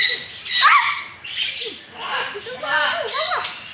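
Harsh, loud squawks from a large parrot, several piercing calls in short bursts close by, with brief quieter gaps between them.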